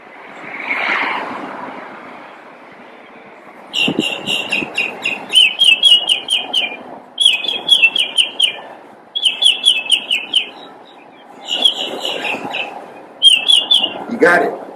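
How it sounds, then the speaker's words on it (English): Outdoor bird song during a salute to a veteran, with repeated bursts of bright chirping phrases, fairly close and clear over a faint background hum, after a brief voice at the start. "You heard that bird?"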